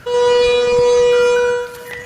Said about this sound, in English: Those sirens could be heard from the famous Blue Lagoon Spa